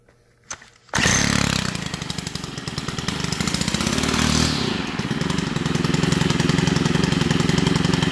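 A Stihl two-stroke engine on fuel mix is pull-started with a brief cord tug, then catches and runs loud and close with a steady rattling idle that swells slightly midway.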